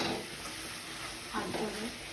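Tempering being fried in a pan in a village home kitchen, a faint steady sizzle with stirring, and soft voices briefly audible underneath.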